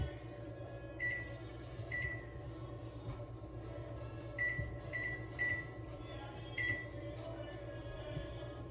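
Oven control panel being set to 350 for 30 minutes, emitting a series of short, sharp electronic beeps at irregular intervals over a low steady hum, faint and close.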